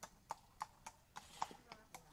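A horse ridden during a school horseback riding lesson, its hooves clip-clopping in a steady, even rhythm of about eight distinct strikes, fairly quiet and close, with faint voices in the background.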